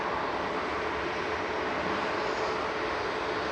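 A TUI passenger airplane, flight to Agadir operated by SmartLinks Malta, departing Manchester Airport with a steady, loud broadband engine roar that holds constant throughout, no talk.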